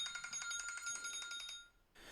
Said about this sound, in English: Sorry, that was my alarm for the pot pie that I put in